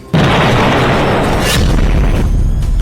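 A large explosion destroys a Hezbollah building, a sudden loud boom followed by a heavy, sustained rumbling roar of collapse and debris that fills the rest of the clip.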